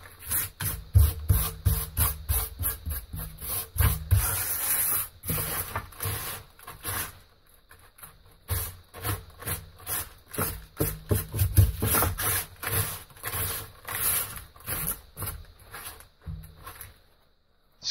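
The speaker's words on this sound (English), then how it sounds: "Use your hands to mix in any of the cement caught in the corners or ridges of the tray." Bare hands work dry cement mix around a tray for patio slab pointing, producing repeated gritty scraping and rubbing strokes, close and moderately loud, with a brief lull midway before the rhythmic mixing resumes.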